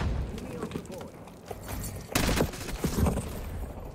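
Gunfire in the video game Black Ops 6, with bursts of rapid shots and heavier booms mixed with game sound effects, while a player talks over it.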